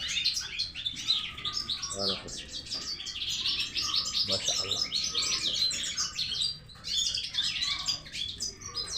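Dense, continuous chirping and twittering from many birds, goldfinches among them, busy and close, with a voice speaking briefly partway through.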